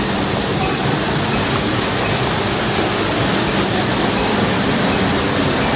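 Waterfall at Robber's Cave in Dehradun, Uttarakhand, roars as a dense, constant rush of water, loud and close, with no breaks; no speech is heard.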